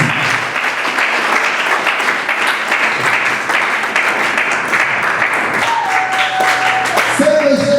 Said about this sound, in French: je vous demande d'applaudir très très fort